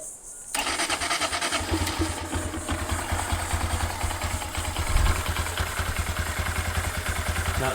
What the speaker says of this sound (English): let's go ahead and fire the bike up and see what she sounds like